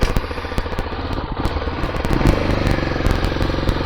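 A motorcycle engine catches and settles into a steady, close, rattling idle once the petrol is turned on, loud throughout with no talk.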